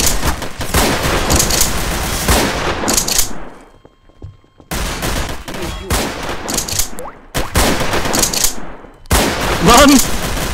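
Heavy sustained gunfire in the Garry's Mod DarkRP game, dense automatic bursts filling most of the stretch with short pauses between volleys, loud and close, while someone shouts in the middle.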